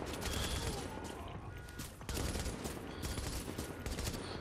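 Pistol gunfire in The Division, loud, rapid shots crackling close up in dense bursts, with a brief pause midway before the firing resumes.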